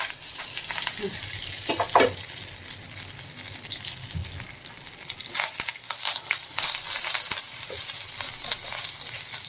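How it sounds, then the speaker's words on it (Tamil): Washed curry leaves sautéing in a frying pan with salt, sizzling steadily and close, with stirring scrapes throughout, while a voice talks faintly. "கருவேப்பிலை வதக்கும் போதே அதுக்கு தேவையான உப்பு போட்டுக்கணும்."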